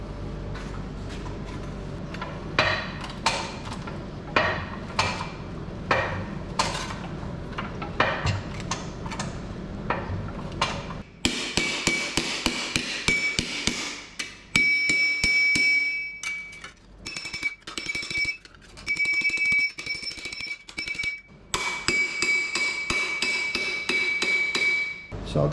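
Sharp metallic hammer blows shape a dented sheet-metal panel for an off-road vehicle build, struck in irregular bursts nearby, with ringing, tinny strikes in the later part and no talking.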